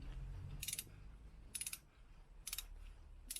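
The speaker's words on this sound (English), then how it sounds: "we put our 14mm socket on, and you can loosen up each caliper bolt" Ratchet clicks from a 14mm socket loosening a brake caliper bolt on a Kia Ceed, arriving in four short bursts of rapid ticking at a steady pace, close by over a low background hum.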